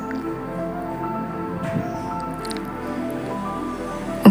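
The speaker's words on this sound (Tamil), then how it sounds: "பால் சேர்த்துட்டு கொஞ்சம் தண்ணியும் சேர்த்துக்கலாம் கூடவே." Water is poured into milk in a pan for semiya payasam, giving soft squishy drips and liquid trickling at close range over a steady low background hum, with a sharper splash right at the end.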